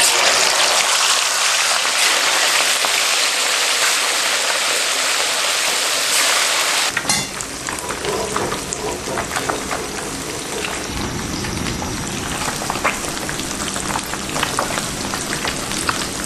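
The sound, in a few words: crucian carp slices deep-frying in hot oil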